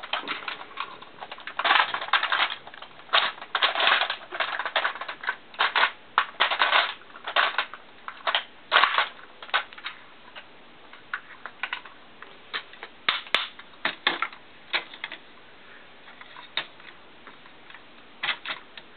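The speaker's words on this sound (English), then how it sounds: "his arms move with these ratcheting joints like this" Ratcheting joints on the arms of a heavy Devastator toy figure click in quick irregular runs of sharp, close ticks, with brief pauses between bursts.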